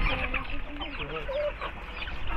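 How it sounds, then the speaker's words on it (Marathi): A fighter rooster clucks close by, a quick series of low throaty clucks over noisy outdoor background, with faint voices mixed in. "फायटर कोंबडा फायटर ते बघ कसं मोराची किती"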